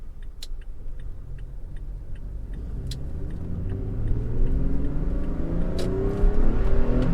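A third-generation Toyota Tacoma with a six-speed manual gearbox accelerating: a steady engine drone that rises gradually in pitch and grows louder, heard from inside the cab with faint ticking above it.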